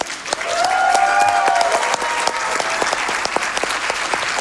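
Live crowd applause at a Games Done Quick marathon event after a DOOM Eternal speedrun, a dense steady wash of clapping sustained throughout, with a whistle rising over it early on.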